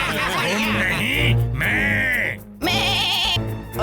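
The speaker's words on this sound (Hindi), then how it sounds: "बक बक बकरी।" A cartoon goat bleats in a loud, wavering, voice-like run of several close bleats that sound almost like laughter, broken by short pauses.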